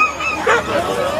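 Sled dogs before a 400 km mushing race, excited overlapping yips and barks with a whimpering edge, loud and close in a brief noisy burst.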